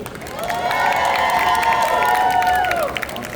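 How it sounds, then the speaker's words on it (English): A convention panel audience cheers and applauds loudly for several seconds, with whoops and shouts over dense clapping that fade toward the end. "Round of applause, everyone. A loud cheer."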